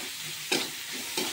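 Crushed Maggi noodles frying in a hot kadhai, a close sizzle broken by two sharp scraping stirs of the spoon against the pan.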